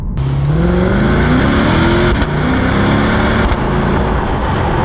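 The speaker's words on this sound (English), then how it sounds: "The exhaust didn't sound that good initially, but accelerating, it actually sounds relatively good." A loud exhaust on a 2020 Lexus RC F Track Edition roars as the engine revs climb through quick gear shifts, the pitch rising repeatedly in close, continuous bursts.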